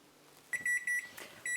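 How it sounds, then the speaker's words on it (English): A kitchen timer sounds for an egg bake, giving a few short, steady electronic beeps in quick bursts, clear against a quiet kitchen. "it looks like the timer's gone off for our egg bake"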